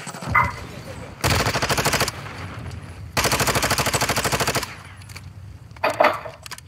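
Bursts of automatic gunfire from the Call of Duty MW2 DMZ video game, two long sustained rapid volleys and shorter shots, loud and close, with brief bits of game noise between them.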